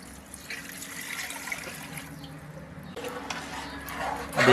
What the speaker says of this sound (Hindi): 2 लीटर पानी डाल लेंगे।